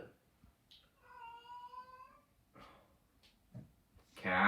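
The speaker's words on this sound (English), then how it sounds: "cat." A house cat gives one clear, drawn-out meow, close and moderately loud, in a quiet room, followed by faint scuffling and a brief loud noise at the end.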